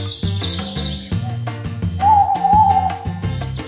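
An owl hoots in a cartoon alphabet lesson for kids, a clear whistling call set over a bouncy musical backing, with a second hoot-like tone following midway through.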